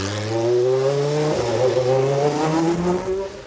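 A Peugeot 905 V10 race car from 1990 screams close by, its high engine note climbing steadily with a brief dip and stutter midway before pulling again, loud and continuous.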